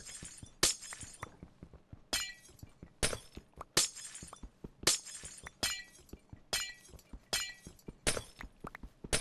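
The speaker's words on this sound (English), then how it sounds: "this isn't too loud, the glass breaking?" Glass breaking over and over in Minecraft during work on an iron farm, a brisk series of sharp shattering crashes at roughly even intervals, each a bright burst with tinkling tails, close and clear with no talk.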